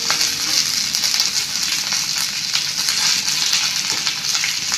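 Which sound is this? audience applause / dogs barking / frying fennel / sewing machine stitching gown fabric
frying fennel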